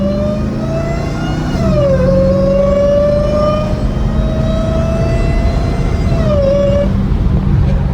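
A Dodge Hellcat Redeye idles and revs nearby, its supercharger whine rising and falling in pitch over a continuous loud exhaust drone, with no talking.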